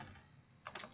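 Quick keypresses on a calculator while entering numbers for a chemistry yield calculation, a short burst of a few soft, close clicks with no talk.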